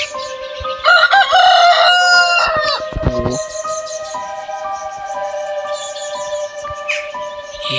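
A rooster crows loudly and close in a village yard, its strained call breaking off into clattering noise, followed by a steady droning tone in the background.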